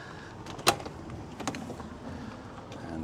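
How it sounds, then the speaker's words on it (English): Camper van back doors are unlatched and swung open, giving a sharp metallic clack followed by a softer second click and faint creaking movement, fairly quiet and close. "So let's open up the back doors,"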